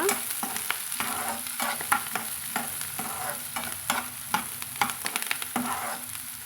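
Onions and curry leaves stirred in a frying pan for onion poriyal, steady hissing sizzle with frequent sharp ladle scrapes and clicks in an uneven rhythm, close and alone.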